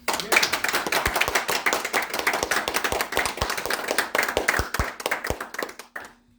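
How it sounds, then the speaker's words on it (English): A small group at a karate dojo claps for a newly installed sensei, quick uneven hand claps close by that keep up for several seconds, then thin out and stop abruptly. "So, go ahead guys, clap for him."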